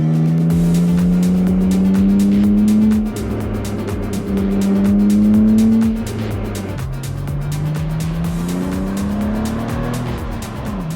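A BMW M2 G87 engine revs hard while driving, loud and close, its pitch climbing steadily then dropping at quick gear changes before rising again.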